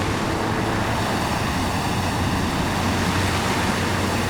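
Stormy sea with fierce wind and violent waves battering an old sailing boat drifting off course, a dense, steady roar of surf and gusting wind that fills the whole stretch without a break.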